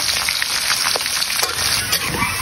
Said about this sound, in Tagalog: So, antayin lang natin ito mag-brown mga pare ko. Pakaprito muna natin ito.